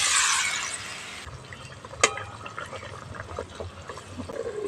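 Fried pointed gourds tipped into a simmering Bengali lentil gravy for potol masoor, giving a brief sharp splash and clatter followed by a steady low bubbling simmer with faint sizzling.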